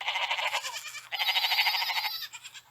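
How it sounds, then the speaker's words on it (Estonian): Sheep bleat in quick succession, two long quavering cries close by and fairly loud, with a faint low hum underneath and a softer bleat trailing off at the end. "Need on lambad."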